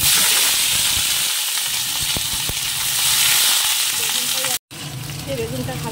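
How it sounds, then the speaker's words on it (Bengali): Eggplant pieces frying in hot oil in a home kitchen, a loud continuous sizzle with a few stirring clicks and a short break near the end. "বেগুনটা হালকা ভেজে নিয়েছি"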